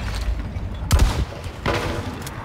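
Gunfire in Hunt: Showdown, a couple of sharp, heavy shots about a second apart with a rumbling tail, fairly close over quiet background noise, no talking.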